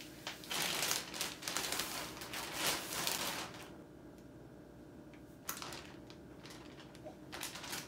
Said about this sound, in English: we're gonna cut it with scissors.